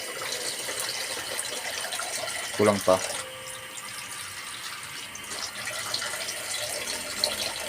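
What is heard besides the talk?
water from a tap added to a pot of mung bean soup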